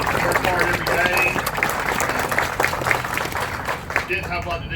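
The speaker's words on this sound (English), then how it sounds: "please give a round of applause to these guys" Applause at a bridge ribbon-cutting ceremony for the city council, moderate clapping from a small outdoor crowd, steady throughout with voices mixed in.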